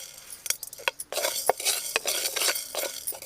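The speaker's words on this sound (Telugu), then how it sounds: "ఇప్పుడు మనం మిరియాలు వేసుకుందాం" Black peppercorns dry-roasting in a pan with cumin and fenugreek, heard as a light crackle with repeated scraping and clinking of a metal spoon stirring the spices, close and fairly quiet; no talking.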